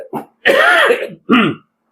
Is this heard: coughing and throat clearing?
yes